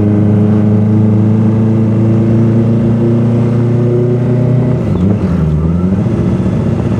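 A Kawasaki ZX-25R limited edition motorcycle's engine drones loud and close on a test ride, holding a steady high hum before the pitch drops and shifts partway through.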